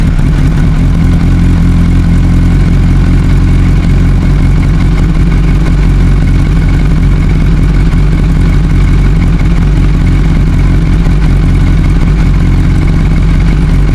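A Honda CBR1000RR sport motorcycle with a weak battery and bad stator idles steadily nearby, a loud, even low engine hum that holds unchanged for the whole stretch without any talk.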